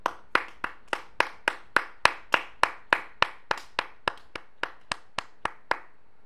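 A single pair of hands claps slowly and steadily, about eighteen crisp, close claps at an even pace that soften slightly toward the end, applauding a first-place guild.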